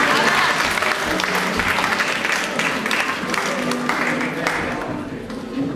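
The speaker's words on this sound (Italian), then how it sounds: "un altro applauso ai ragazzi" An audience applauds a group of young people at an Italian recital, a sustained, fairly loud wash of clapping that gradually fades, with some voices mixed in.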